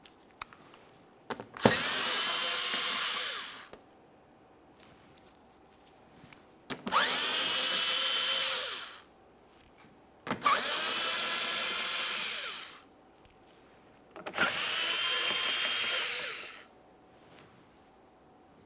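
A power drill removes 8mm headed bolts from the forward bumper shield of a 2014–2018 Mazda 3 in four loud, close bursts of whirring, each about two seconds long, separated by short quiet gaps.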